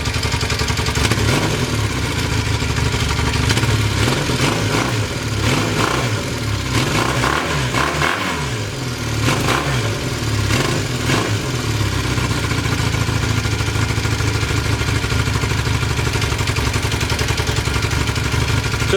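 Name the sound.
retro motorcycle engine running after a cold start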